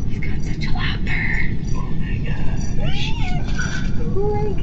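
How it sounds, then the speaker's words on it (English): A pet cat purrs with a low, steady rumble close by, while voices talk over it and a few high meow-like sounds come through. "He's got such a lot of purr."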